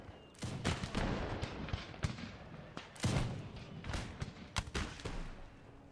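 Musket volleys crack from a line of troops in Empire Total War, several ragged bursts of overlapping shots at moderate distance, each followed by a rumbling tail.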